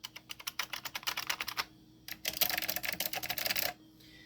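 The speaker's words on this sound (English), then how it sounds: "I honestly kind of like the sound of the Omni key. A little bit more clicky." Rapid clicky keystrokes from a Northgate Omni mechanical keyboard, two bursts of fast typing separated by a short pause, close and crisp.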